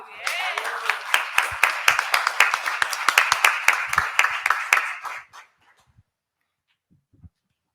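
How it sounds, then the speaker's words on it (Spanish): Audience applause at a manga master class: a small crowd claps in a clear, fairly close rhythm for about five seconds, then stops abruptly, leaving near silence with a faint stray sound. "Un aplauso, ¿no?"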